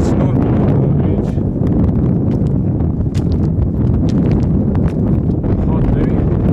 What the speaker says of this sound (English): The wind started to pick up a tiny bit. It's normal on the ridge.